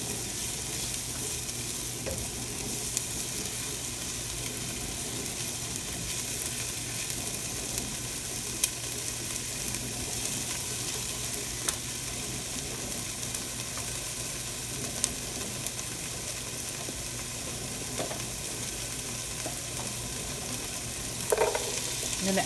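Chopped onion sautés in a pot at the start of a vegan vegetable soup, giving a steady, even sizzle that runs for the whole stretch, with a few faint scrapes and light clicks from stirring.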